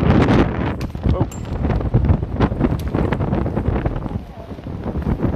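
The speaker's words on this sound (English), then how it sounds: "it's pretty windy here today" Gusty outdoor wind buffeting the microphone at a demonstration outside Barclays in Canary Wharf, with rumbling low thumps and faint crowd noise underneath.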